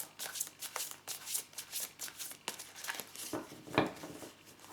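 Oracle cards shuffled by hand before a tarot-style reading, close and crisp, with several bursts of riffling and slapping cards in an uneven rhythm, no voices.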